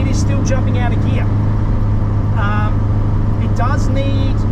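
A Ferrari-engined Alfa Romeo 105 runs with a loud, steady, buzzy engine drone throughout, close by, with faint chirping or squeaking sounds above it.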